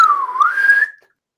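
A person's whistle, imitated by a game master's voice: one clear, close tone lasting about a second that dips and then slides upward before cutting off into silence.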